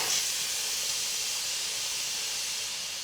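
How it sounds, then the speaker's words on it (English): An Instant Pot pressure cooker vents steam on quick release, a loud, steady, bright hiss that runs unbroken and fairly close throughout. "the pressure cooker just finished. Now I'm about to do a quick release"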